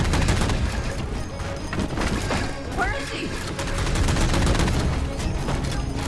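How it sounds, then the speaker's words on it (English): Dense, loud battle in Halo MCC: rapid gunfire and crashing grenade blasts pile up nonstop, with a brief whooshing sweep in the middle of the din. "They all threw a grenade."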